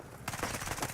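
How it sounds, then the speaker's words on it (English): Shotgun fire in Battlefield RedSec, a rapid, dense burst of gunfire starting a quarter second in and continuing to the end, loud and close. "Nice shotgun there, buddy."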